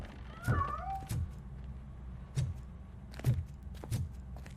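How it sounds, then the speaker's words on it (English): A cat in the video game Robocop Rogue City meows with a rising, wavering cry near the start, then scurries off with several soft thumps and footsteps spaced across the moment. "That cat must be hiding inside. Let me lure it out."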